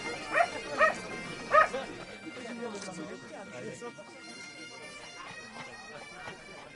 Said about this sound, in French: Oui, Pistolet, tu es un bon chien.